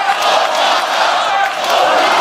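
A packed wrestling arena crowd at AEW Dynamite roars and cheers Okada on, a dense, loud, continuous wall of shouting voices filling the hall.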